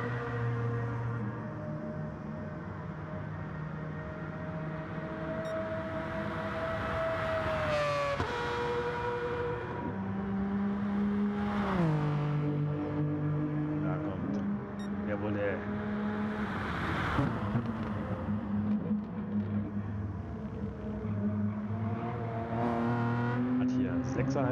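High-pitched Formula 1-style racing car engine in a sim racing league race, screaming with rising and falling revs through gear changes, loud and continuous under steady commentary talk.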